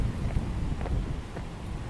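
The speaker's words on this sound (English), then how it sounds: "Yeah, very windy actually." Strong wind buffets a handheld recorder outdoors among trees, a dense low rumble with gusty swells across a couple of seconds.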